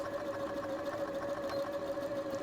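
A sewing machine runs steadily while stitching a buttonhole, a faint, continuous mechanical hum with a fine rapid stitching rhythm.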